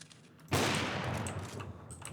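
A single loud crack followed by a sustained burst and decaying rumble of gunfire in the CS:GO video game, sharp onset after a short quiet lead-in, with no talking.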